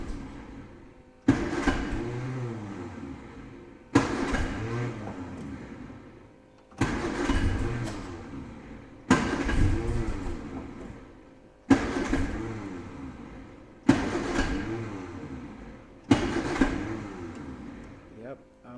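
An Austin-Healey Bugeye Sprite engine is cranked repeatedly, about seven separate starter bursts each catching briefly and fading, close and loud, with a voice talking over some attempts.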